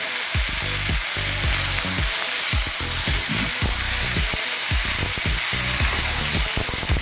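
Chopped tomatoes and onions stir-frying in a pan while cooking dried anchovy thokku, a steady loud sizzle broken by repeated scraping stirs throughout, with no talking.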